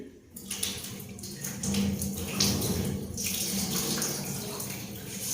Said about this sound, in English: So for this first we need to wet our hands a little.